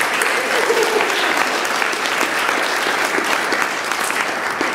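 An audience applauds a speaker at a transhumanist conference in Melbourne, with dense, sustained clapping that stays loud and even throughout and carries a faint murmur from the crowd.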